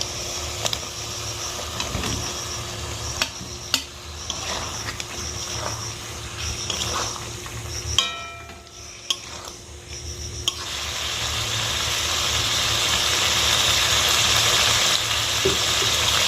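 Potatoes tipped into a pan of bubbling spice paste and mashed onion, giving a steady close sizzle and frying hiss with a few stirring clatters, briefly dipping before a louder, sustained fry takes over.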